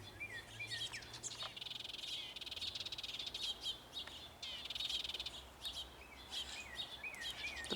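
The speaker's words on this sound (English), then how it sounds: "The birds love the pine tree." Birds chirp and tweet from a garden pine tree in spring, a steady chorus of bright overlapping calls and trills throughout, with a low hum underneath.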